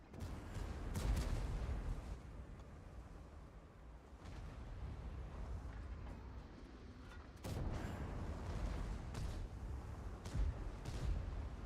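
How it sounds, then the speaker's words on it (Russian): Firework-like explosions in World of Tanks: rumbling booms and crackling blasts, with a sharp burst early on and another around the middle, over a continuous low battle rumble. "Фейерверки."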